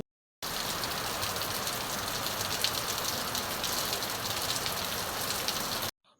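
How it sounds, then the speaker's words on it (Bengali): Steady, dense rain pouring down without a break, starting abruptly and cutting off near the end. "বৃষ্টি হয়েই যাচ্ছে দেখো কবে থেকে বৃষ্টি নেমেছে"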